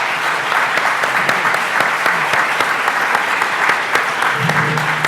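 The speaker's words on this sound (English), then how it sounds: "Full round of applause for the panelists" Audience applause for panelists at a business talk, a sustained, even round of many hands clapping up close, with a low rumble rising near the end.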